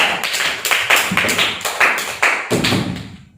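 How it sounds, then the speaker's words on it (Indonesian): A classroom of students claps for a classmate in a short burst of sharp, uneven hand claps that thin out and fade by the end. "tepuk tangan lagi untuk Mas Kolet"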